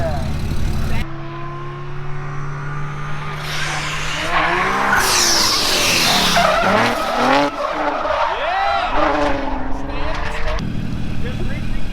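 A supercharged V6 Lexus LS550 with a JTP kit drifting at a Gridlife track event, its tires squealing loudly and shifting in pitch over a steady engine roar, with people talking nearby.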